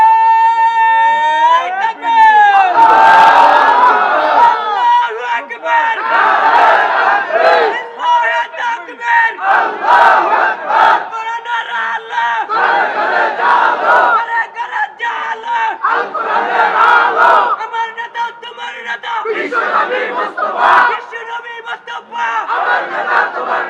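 A large crowd at a Bangladeshi Islamic sermon gathering shouts Allahu Akbar in loud, repeated call-and-response takbir chants, the massed voices swelling and falling in waves.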